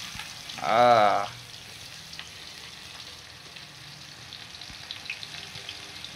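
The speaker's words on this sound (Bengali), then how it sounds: "প্রথমে পেঁয়াজ দেন দেন দেন, পেঁয়াজ দেন" Onions sizzle in hot oil for a chicken curry: a steady, fairly faint hiss under a short vocal exclamation near the start, with a few soft clicks from the pan.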